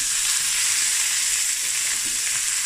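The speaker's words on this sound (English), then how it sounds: "my butter and my oil is heating up for the prawns" Butter and oil heat in a pan ready for prawns, giving a steady, even frying sizzle that holds close and loud throughout with no talk.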